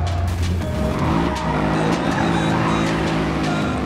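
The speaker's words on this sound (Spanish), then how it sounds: "La verdad se escucha muy bien el motor de este auto" A Mercedes-Benz SLS AMG Coupé in the racing game Need for Speed Rivals, its engine roaring loud and steady with rising revs and a tire squeal. The sound is continuous and dense, with no talking.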